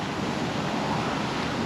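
Strong wind gusting beside a canal at a narrowboat mooring, a dense steady roar of buffeting air across the microphone, loud and unbroken for the whole short stretch.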